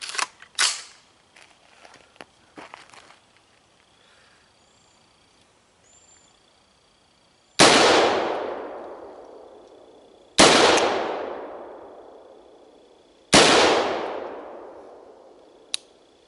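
Three loud, sharp rifle shots ring out about three seconds apart, each with a long fading echo, fired at a target from a rifle fitted with a Cosmic Tactical Saturn scope; a few faint clicks and handling sounds come before them.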